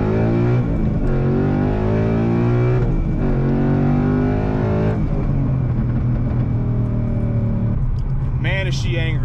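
A 2012 Ford Mustang Boss 302 V8 with a manual gearbox revs hard and accelerates through rising gear pulls, a loud, close engine roar with a deep rumble between shifts.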